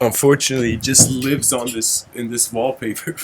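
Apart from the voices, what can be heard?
No everyday noises stand out.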